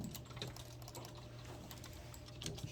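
Quiet typing on a computer keyboard, a steady patter of soft key clicks with a few sharper taps near the end, faint and close, with no talking.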